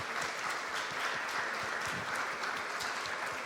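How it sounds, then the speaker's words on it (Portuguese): Steady applause from a church congregation honouring Jesus, dense clapping throughout at a moderate distance with no talk over it. "Queria que você aplaudisse mais forte a Jesus."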